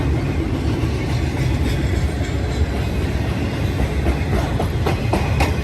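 A freight train hauling UPS trailers rolls past close by with a steady, loud rumble and rhythmic clickety-clack of wheels over the rails, continuous throughout with no voices.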